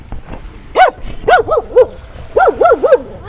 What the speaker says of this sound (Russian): Черт возьми, собака меня хочет съесть.